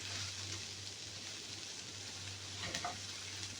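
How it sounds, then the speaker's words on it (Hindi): Green chilies frying in a pan give a soft, continuous sizzle with faint stirring scrapes and a brief crackle burst near the end, heard close and quiet with no voices. "इसको थोड़ा सा फ्राई कर लेंगे ताकि इसका जो है वो थोड़ी सॉफ्ट हो जाए ग्रीन चिली भी"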